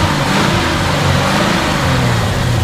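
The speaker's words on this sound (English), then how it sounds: "Go ahead and rev it up a little bit." A lowered 1950 Plymouth Suburban two-door wagon's engine revs steadily, a loud, close, continuous mid-low engine roar with slight swells and no talking.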